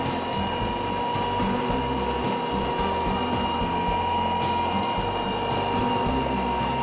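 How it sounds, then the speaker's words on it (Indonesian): An electric mixer beating a whole egg into kastengel cookie dough, a loud continuous motor whir with a rhythmic churning, knocking texture as the beaters work through the thick dough. "Kita kocok lagi sampai telurnya kecampur, hanya sampai kecampur saja"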